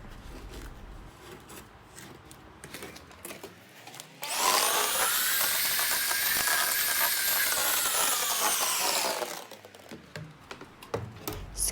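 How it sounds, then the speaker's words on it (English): An electric hand mixer beats soft butter and sugar in a mixing bowl for a butter cake, a steady loud whirring drone that starts abruptly, runs for about five seconds and then cuts off, with quieter clatter before and after. "use the hand mix machine, push into the butter"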